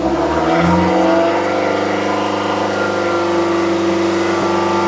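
A 2006 Toyota Matrix 4WD engine with a newly replaced muffler revs up from idle, a loud, rising exhaust drone that climbs and then holds at a steady higher pitch close by, with no talking.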